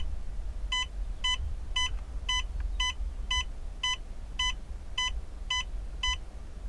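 A series of about a dozen short, evenly spaced electronic beeps from a light dimmer control in a camper van, crisp and high-pitched over a faint low hum.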